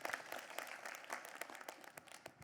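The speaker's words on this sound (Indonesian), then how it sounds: "Tepuk tangan dong buat Habib." Audience at an Islamic religious gathering claps briefly, a faint, short patter of applause with scattered individual claps.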